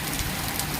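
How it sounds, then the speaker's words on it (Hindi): Very heavy rain pours down in a steady, dense hiss with no pauses, close and fairly loud, and no voices are heard. "ये देखिए बहुत बारिश हो रहा है, बहुत तगड़ा बारिश।"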